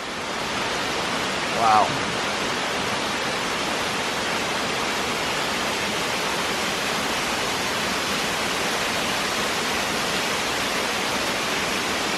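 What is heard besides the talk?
waterfall on the Appalachian Trail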